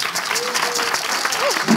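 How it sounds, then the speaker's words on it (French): A short burst of audience applause in a live French television studio show, steady and fairly close, with a voice and a whistle-like tone sounding over the clapping. "applaudissez pour la pause."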